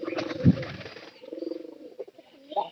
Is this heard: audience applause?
no